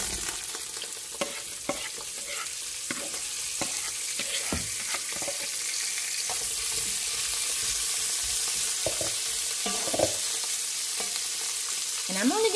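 Beef bones searing in hot Kalamata olive oil for bone broth, a steady loud sizzle and crackle that runs throughout, with scattered sharper pops and spatters.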